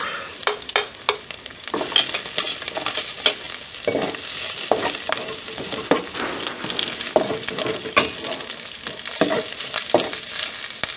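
Garlic sautés in a pan with a steady sizzle, punctuated by frequent sharp scrapes and clanks of a utensil stirring against the metal, close and lively throughout.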